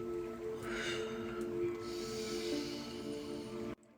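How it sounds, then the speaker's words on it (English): Rose water spritzed from a spray bottle around a room, a steady airy hiss lasting a few seconds before cutting off sharply, close and moderately loud over a faint hum. "And I'll just spray the area."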